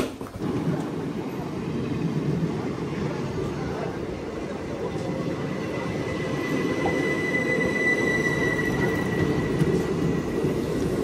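A MEMU express train runs steadily on rails near Simhachalam, giving a continuous rumbling rolling noise with a faint high wheel squeal, heard from on board at moderate level.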